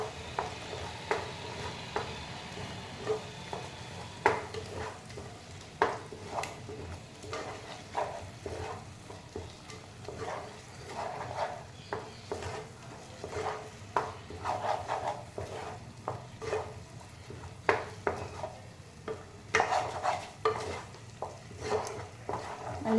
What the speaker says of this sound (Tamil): ஆட் பண்ணிவிட்டு நம்ம நல்லா ஸ்டிர் பண்ணிகிட்டே இருக்கணும்.